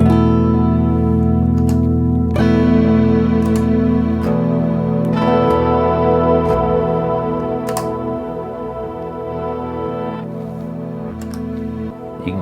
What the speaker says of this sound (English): You can kind of hear that backwards reverb better now. It's a really cool effect.